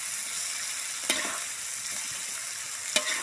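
Food frying in a pan over a campfire-style setup in a forest at night, cooked until crispy and charred: a steady, close, crackling sizzle runs throughout, broken by two sharp clicks, with no voices.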